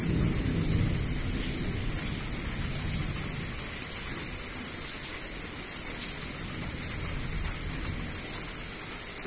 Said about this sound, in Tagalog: Kumukulog pa pala.